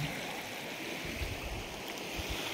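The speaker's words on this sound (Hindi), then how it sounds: "बहता हुआ पानी आपको नज़र आ रहा है।" A village river flows steadily as a soft, continuous wash of running water, fairly distant and even, with low rumbles underneath and no voices.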